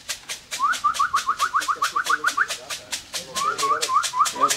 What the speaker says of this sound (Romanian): Primul stol porumbei a și sosit.